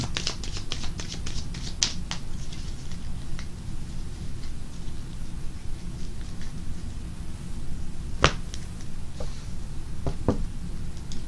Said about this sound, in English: let's pull 3 cards on this